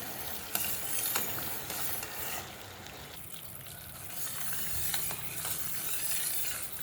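Sugar syrup for shev ladoo boils in a pan, giving a steady close bubbling sizzle with faint stirring noises throughout, no voices present.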